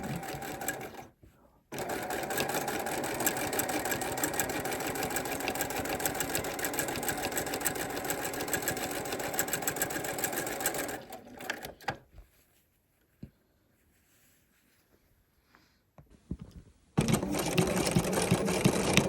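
A sewing machine stitches in the ditch along an open fabric seam, running steadily for about ten seconds after a brief pause, then stopping into near silence before a short final burst.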